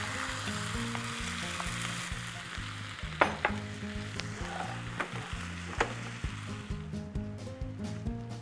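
A dal and quinoa khichdi mixture sizzling steadily in a pan as it is stirred, with occasional sharp scrapes and clicks of a spoon over continuous frying hiss and a faint background music-like hum.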